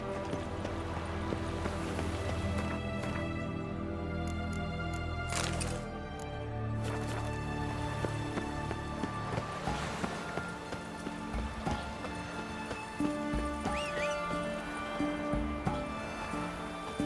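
Hooves of Roach, the horse in The Witcher 3, beat in a steady galloping clip-clop over ambient game sound, continuous and fairly close, with a few sharp cracks along the way.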